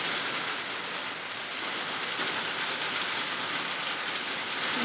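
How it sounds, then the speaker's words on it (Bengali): Heavy rain pours down steadily in stormy, gusty weather, a dense, even hiss of water striking surfaces close by, loud and unbroken with no voices. "বৃষ্টি কালকে সকাল 5টা থেকে নেমেছে, এখনো বন্ধ হওয়ার কোনো ইয়ে নেই। যেমন বৃষ্টি তেমন ঝোড়ো হাওয়া।"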